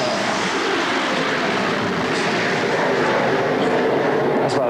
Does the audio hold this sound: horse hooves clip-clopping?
no